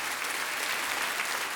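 A short burst of steady audience applause, moderately loud and evenly sustained with no pauses.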